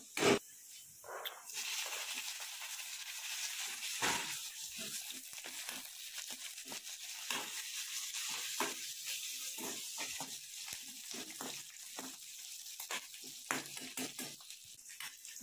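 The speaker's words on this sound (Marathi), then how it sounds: "त्यात मी मिरची आणि जिरे टाकणार" Green chilies and cumin seeds frying in about a spoonful of oil for sabudana khichdi give a continuous crackling sizzle, peppered with sharp pops and spatters, at close range.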